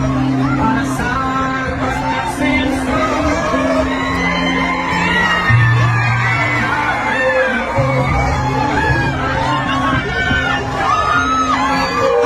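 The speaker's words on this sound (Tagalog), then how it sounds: "Ano ang sigaw ng mga mamalang Pilipino? Duterte! Duterte" A large crowd at a political rally in the Philippines cheers, whoops and chants in loud, continuous waves, with rhythmic repeated shouts and yelling voices all through.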